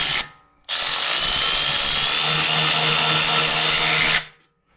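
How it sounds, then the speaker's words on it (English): A cordless electric ratchet or similar power tool runs in one steady, loud, whining burst of about three and a half seconds while removing parts from a crash-damaged Camaro, with a short buzz just before it and no talking. "just take your electric ratchet and don't do any heavy work with it"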